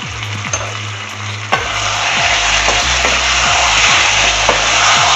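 Lamb liver masala sizzles loudly in a pan as a spoon scrapes and stirs it repeatedly, with a dense, steady frying hiss running throughout.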